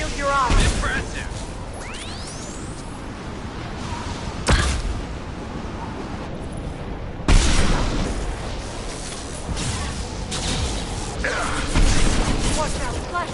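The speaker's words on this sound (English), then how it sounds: "Watch out, flashbang" Flashbang grenade detonations in a Mass Effect 2 firefight, several sharp bangs over a continuous roar of combat noise, with voices speaking in the background.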